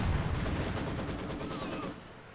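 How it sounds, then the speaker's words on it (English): Machine gun fire in a multiplayer video game match, a dense sustained burst of rapid shots with a rumbling low end that tapers off after about two seconds. "I know he has the machine gun there"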